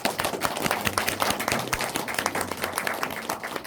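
A cinema audience at a film screening Q&A with the director and actors claps loudly and steadily, many sharp hand strikes close by, with faint low voices underneath.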